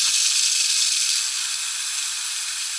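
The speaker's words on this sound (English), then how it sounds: "I use these little diverters so it doesn't blow steam all over the ceiling, and we'll go ahead and open the valve." Steady, loud hiss of steam venting through the pressure release valve of an Instant Pot, fitted with a diverter, cooking frozen bratwurst; one continuous high-pitched rush that holds without a break.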